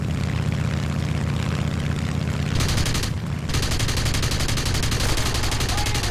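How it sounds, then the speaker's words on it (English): Aircraft 20mm cannon fire in War Thunder, a rapid buzzing burst over a droning propeller engine, a brief gap, then another sustained loud burst. "I shot him with a cannon"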